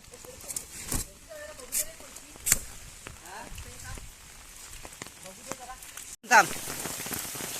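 Steady rain falling outdoors near salt-marsh flats during shellfish gathering in coastal Konkan, a continuous patter under talk, laughter and a few sharper splashes, with one abrupt break near the end.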